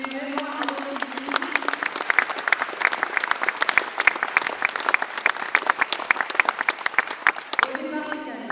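Sustained applause from an audience at the inauguration of a large event hall in Quimper, dense steady clapping that swells for several seconds before fading, with a voice speaking briefly in French at the start and end.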